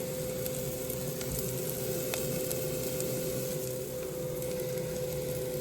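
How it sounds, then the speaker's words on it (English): Onions cooking down in a pan for a korma, a steady, even sizzle and crackle with a faint constant hum underneath, continuous and moderately quiet, with no voices. "And cook down the onions."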